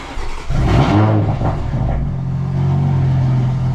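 A race car named Suzy cranks and fires up, then its engine revs loudly and settles into a steady, throaty idle rumble, close and alone.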